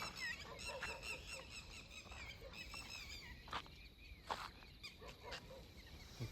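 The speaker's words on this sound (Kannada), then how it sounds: "ಪಕ್ಷಿ ಕಿರ್ಚ್ತಿರೋ ಸೌಂಡ್ ಗಾಯಿಸಿದೆ." Birds by a lake screech and honk at some distance, with repeated harsh calls coming in bursts over steady outdoor noise and a few sharp knocks.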